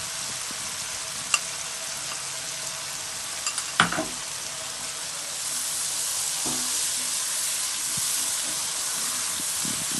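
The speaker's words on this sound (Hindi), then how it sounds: "2 टेबल स्पून गार्लिक सॉस डाल दें और मसाला अच्छी तरह भूने।" Masala frying in a pan with two tablespoons of garlic sauce for black chana chaat: a steady broad sizzle under a few isolated spoon scrapes and knocks, growing slightly louder and denser in the second half, close and without talk.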